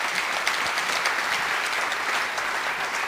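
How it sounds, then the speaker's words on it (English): Steady, dense audience applause at a civil rights commemoration event, continuous and even throughout with no speech over it. "Please give him a round of applause to start."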